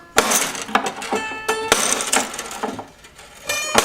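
A small bone nut drops off a smashed Martin acoustic guitar, a cluster of light clicks and rattles with ringing metallic string tones, close and fairly loud over a few seconds.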